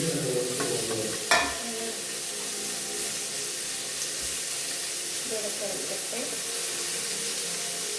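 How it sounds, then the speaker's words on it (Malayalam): Marinated chicken shallow fries in a pan with a steady, close sizzle, some stirring clinks near the start and soft, dull knocks underneath. "ഷാലോ ഫ്രൈ ചെയ്യാം"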